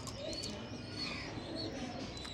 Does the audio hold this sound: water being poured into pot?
no